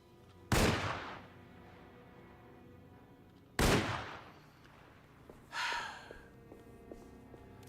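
Gunfire in the Alone in the Dark video game: two loud, sharp shots a few seconds apart, each with a decaying tail, followed by a fainter mechanical clack.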